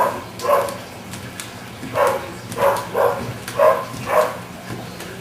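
A dog barks several times in short irregular bursts, somewhat distant, against a quiet background.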